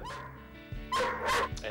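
A dog indoors in a flat, left alone, gives several close, loud barks and high whimpering yelps in an uneven run.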